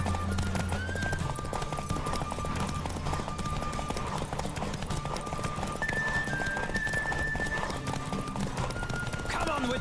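A video game horse runs at full gallop, its fast, even hoofbeats pounding nearby, with a neigh near the end and background music and a voice under the hooves.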